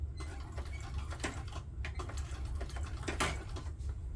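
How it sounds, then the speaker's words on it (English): A sewing machine stitching down a seam on a crossbody bag, a soft quick run of needle ticks in short bursts over a low motor hum, fairly faint. "I'm going to just stitch down right here"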